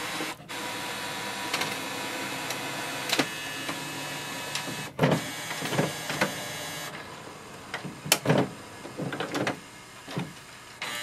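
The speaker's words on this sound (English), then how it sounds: "Click on the blue icon and it will start the scanning process." An HP OfficeJet Pro 9015 inkjet printer hums and whirs steadily as it scans a document, with scattered clicks and mechanical knocks toward the end, no voices.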